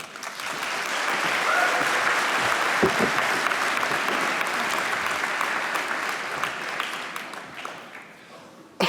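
A large audience at a 2019 university design school graduation ceremony in London claps steadily for about eight seconds, a dense, even roar of applause that tapers off near the end.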